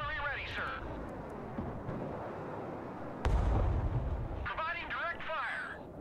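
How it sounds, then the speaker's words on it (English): Rocket artillery fires in the video game Broken Arrow, a heavy booming burst midway over rumbling battlefield noise, with brief radio-style voices before and after. "Rocket artillery ready, sir."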